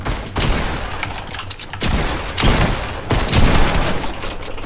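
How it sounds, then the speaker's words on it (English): Rapid gunfire in Fortnite Chapter 2, with bursts of shots and fusillades cracking in quick, irregular clusters, fairly loud and continuous across the moment. "Someone just shot at me."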